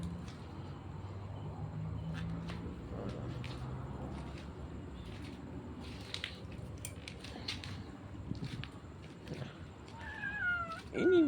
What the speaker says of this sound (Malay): Ini mak kucing.